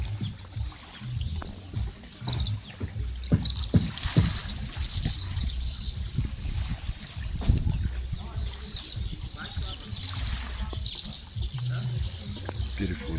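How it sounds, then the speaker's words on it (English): A canoe fishing boat out on a lake, heard as low, continuous knocking and water sounds in the background, with birds chirping and calling over it throughout. "and the canoe fishing boat in the background"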